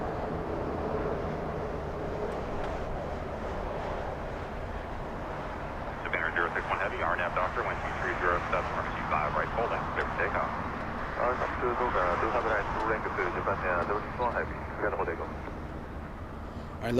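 Emirates flight 215, an airliner at LAX, gives off a steady, broad jet roar from a distance. About midway a voice begins talking over the engine noise and continues to the end.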